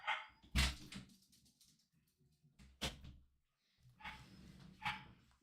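Dogs bark in scattered short bursts nearby, at moderate loudness with uneven spacing. A few thuds like a door or cupboard knock come between the barks.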